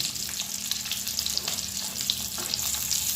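Eggs fry in hot oil dusted with salt and Kashmiri chilli powder for a Bengali egg curry, giving a steady, dense sizzle with soft stirring scrapes throughout and no talking.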